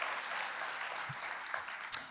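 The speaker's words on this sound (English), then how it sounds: "a round of applause" Audience applause at a medical school white coat ceremony, a steady wash of many hands clapping in a large hall, fairly distant and even, with a brief sharper clap near the end.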